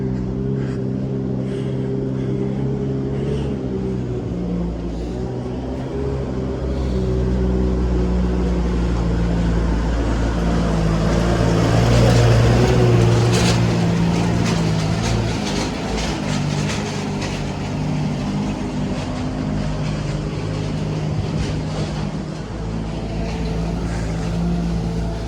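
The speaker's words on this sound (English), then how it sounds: "This Pepsi truck, I think, is going to try to drive up the hill." A Pepsi delivery truck labors up a hill on a town street in San Miguel de Allende, Mexico, its engine drone swelling louder midway and then easing, steady and fairly close.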